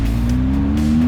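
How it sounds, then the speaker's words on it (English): BMW GS 1250 motorcycle ridden on an Alpine mountain road: the exhaust holds a steady, loud, low droning note that rises slightly in pitch as the engine pulls, with wind noise underneath. "you're just enjoying that beautiful exhaust note of the BMW GS 1250 that I'm riding"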